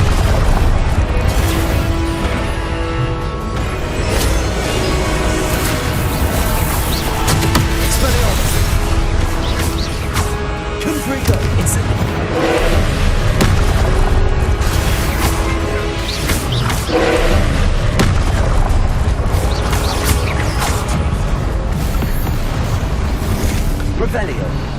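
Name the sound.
Incendio fire spell explosions in Hogwarts Legacy video game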